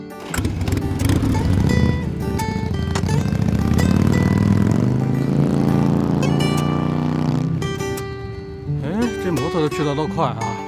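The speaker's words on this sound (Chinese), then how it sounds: "那我们就骑摩托车去" A motorcycle ride is heard as a continuous loud engine drone that swells and then fades. Music plays over it, and voices talk near the end.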